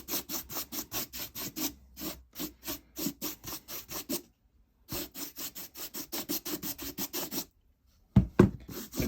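A paint brush rubs lightly over the painted edges of a cardboard box being given a wood effect with chalk paint, making quick, rhythmic, scratchy strokes close up, with short pauses and a louder knock near the end.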